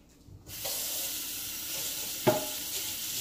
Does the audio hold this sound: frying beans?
yes